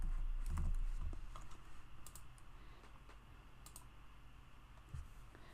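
Quick keystrokes on a computer keyboard, a run of light clicks and taps at close range with brief pauses, over a steady background hum and no talking.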